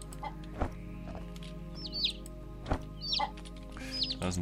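Farm chickens in the Green Project game give scattered clucks and higher chirps over a steady low drone, a few distinct calls close by and no voices.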